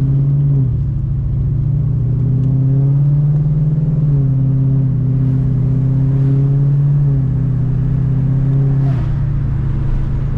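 A car fitted with a swapped Ford Coyote V8 runs close by, its deep steady idle broken by several smooth revs that rise and fall, with exhaust leaks noted; loud and alone with no talking.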